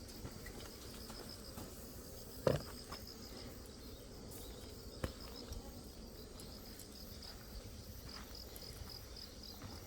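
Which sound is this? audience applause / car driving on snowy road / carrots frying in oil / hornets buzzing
hornets buzzing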